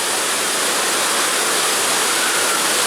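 Hogenakkal Falls gives off a loud, continuous, close-up roar of rushing water, a dense, even hiss with no breaks and no voices.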